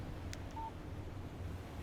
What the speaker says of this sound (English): Text message from Barry.